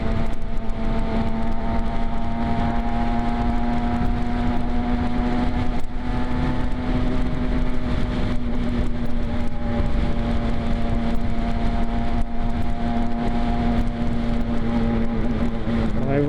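An Aprilia RS 125 motorcycle rides at a steady pace, its engine holding a loud, continuous drone with a strong tonal hum and layered harmonics, wind noise running underneath throughout.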